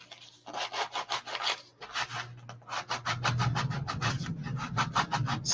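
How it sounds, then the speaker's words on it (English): Rhythmic back-and-forth rubbing strokes of sanding on a prop, close and fairly quiet, with a low hum running underneath. "Sanding is something you can just kind of go with."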